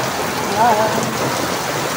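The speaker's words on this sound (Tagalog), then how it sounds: "Mga idol, ang lakas na ng ulan." Heavy afternoon rain pours down in a dense, constant hiss that stays loud and steady throughout, with a faint brief voice-like whistle in the middle.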